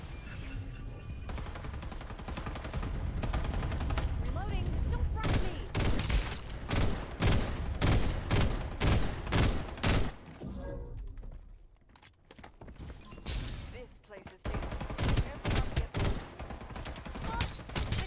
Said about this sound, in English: Open fire. Firing will commence shortly.